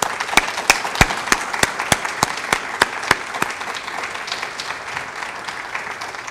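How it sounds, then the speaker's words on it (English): An audience applauds at an art gallery exhibit opening ceremony, one hand clapping sharply and close in a steady rhythm over softer, continuous crowd clapping that gradually thins out. "Let's give him a round of applause."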